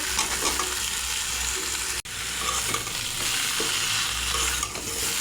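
Pumpkin and Malabar spinach tossed into a pan of spices and fish frying for a pumpkin ghonto, giving a steady loud sizzle with stirring scrapes and one brief break.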